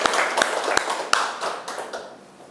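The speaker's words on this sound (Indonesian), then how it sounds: "Tepuk tangan dulu buat Pak Pras." A small group claps briefly for a speaker during a school staff training session, several sharp individual claps standing out at first before the scattered clapping thins and fades out over a couple of seconds.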